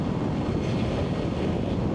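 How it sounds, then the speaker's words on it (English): Powerful wind gusts buffet a rider on an electric motorcycle (Energica) on a road near Grindavik, Iceland, a loud continuous roar of wind noise across the microphone with no voices. "suddenly there are really powerful gusts"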